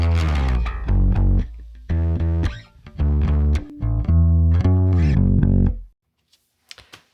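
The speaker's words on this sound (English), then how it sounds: "I'm hearing some distortion, but something funky is going on." Guitar run through an analog distortion pedal wired out of phase, giving a thin, hollow, fuzzy tone on loud sustained chords and notes for about six seconds before a few faint clicks.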